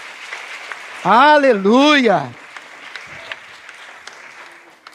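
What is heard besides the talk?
congregation applauding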